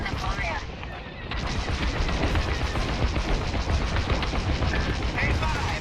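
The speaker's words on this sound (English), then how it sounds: "I'm under fire." Blaster and cannon fire in the space-combat video game Star Wars Squadrons, a dense, continuous barrage of loud shots and explosions filling the whole stretch, with game sound throughout.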